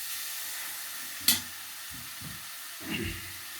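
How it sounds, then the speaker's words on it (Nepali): Chicken pieces frying in a pan, a soft continuous sizzle with a sharp clatter of a utensil striking the pan and a few scraping stirs, close and moderate, no talking. "अब एकछिन चाहिँ मैले यसलाई यसरी भुट्दैछु।"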